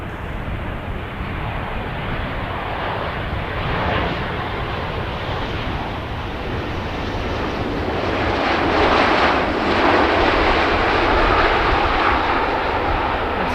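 A Ryanair jet arriving at Manchester Airport, a steady broad engine roar mixed with wind noise that swells slightly louder toward the end, with no talking.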